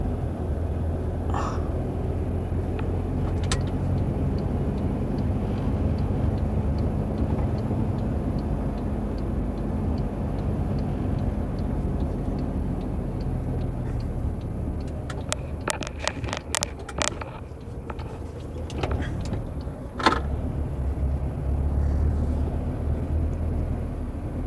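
Cars driving along a wide avenue in Feira de Santana, a steady low rumble of passing traffic filling the scene, with a few sharp clicks and knocks around the middle and a brief bang later.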